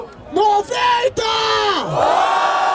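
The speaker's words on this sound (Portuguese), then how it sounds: "Barulho para cima do Big Mike." Loud crowd at a rap battle event in Barueri roars, yells and whoops in swelling bursts, with a brief dip before another drawn-out cheer.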